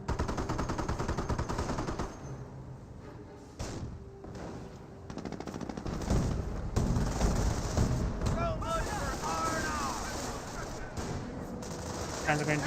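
Greyhound armored car in Company of Heroes firing on Panzer Grenadiers, with rapid bursts of machine-gun fire and scattered shots over a busy battlefield backdrop, fairly loud and near, with talk faintly in the mix.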